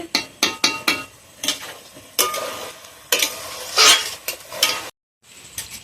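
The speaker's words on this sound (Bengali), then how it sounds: "তো বন্ধুরা এখনো ভাজাভুজি চলছে, পটল ভাজা, ঢেঁড়স ভাজা, কলা ভাজা এখনো চলছে।" Pointed gourd, okra and plantain slices frying in a pan for a Bengali Puja meal, with steady sizzling and repeated sharp clinks and scrapes of a utensil stirring, close and fairly loud, a brief silent gap near the end.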